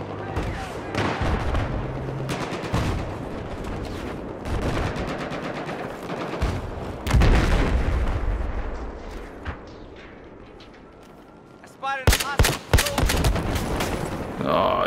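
Battlefield 4 gunfire, dense and loud, mixing rapid automatic bursts with heavy booms, fading midway before sharp close shots near the end. A player talks over the shooting.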